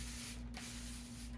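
A short, soft hiss of cleaner sprayed from a bottle during restoration of a vintage Pentium II computer, close and faint over a low steady hum.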